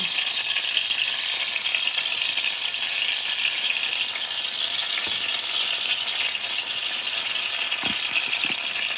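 Eggplant and beaten egg seasoned with salt and pepper fry in a pan, giving a steady, even sizzle throughout with a couple of faint low knocks near the end.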